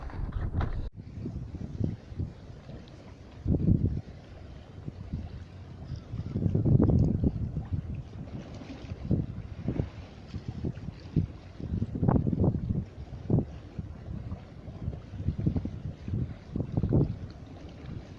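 Gusty sea wind buffets the microphone outdoors at a harbour jetty, low rumbling surges rising and falling irregularly, with water sloshing faintly beneath.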